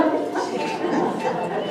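Several small circus dogs yip and bark in quick, overlapping bursts during a spinning trick, close and fairly loud, with an excited announcer talking over them throughout.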